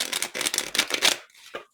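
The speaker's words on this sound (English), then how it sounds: "We're going to draw now from the Charming Oracle. This is message cards," Oracle message cards are shuffled by hand in quick, papery riffling bursts up close, followed by a short pause and a last soft flick, with no voices.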